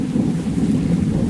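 Storm with rumbling thunder and rain, heard as a dense, continuous low roar with wind buffeting the microphone, loud and close throughout the brief moment.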